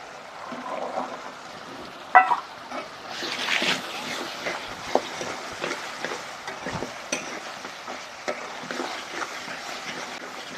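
Tomato and peas fry in a pan for a spinach recipe, with a continuous sizzle under repeated scraping and stirring knocks of a spatula, close and moderately loud.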